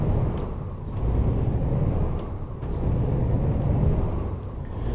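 Euro Truck Simulator 2 truck with its parking brake released, a sharp hiss of air at the start over a steady low engine rumble that holds through the clip, with a few more faint hissing bursts.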